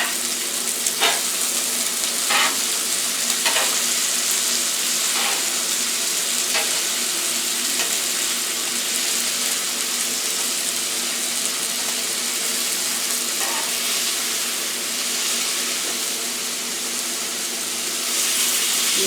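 Rib eye steak frying in oil with garlic, giving a loud, dense, continuous sizzle close up and a few faint clicks and scrapes along the way.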